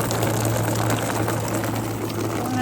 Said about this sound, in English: Filling up their water.